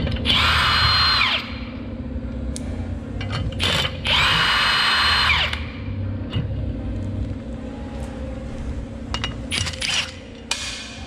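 A power tool whines loudly in two bursts of about a second each while removing the factory U-bolts from a Toyota Tacoma's rear axle during a lift kit install, followed by scattered metallic clanks and rattles.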